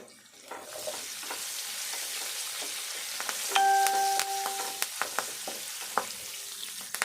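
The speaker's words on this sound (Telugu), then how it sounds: "ఉల్లిపాయ మంచిగా దూరగా వేగాలి కరివేపాకు వేసుకుందాము" Chopped onions and curry leaves fry in hot oil for a fish curry, giving a steady close sizzle broken by sharp clicks of stirring, with a brief tonal chime partway through.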